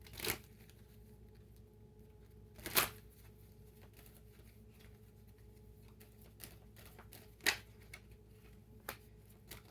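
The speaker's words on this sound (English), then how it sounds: "So let's pull 3 more cards there." Tarot cards are handled at close range, with a few sharp riffling snaps and soft slides and taps as cards are shuffled and drawn, quiet between bursts and without speech.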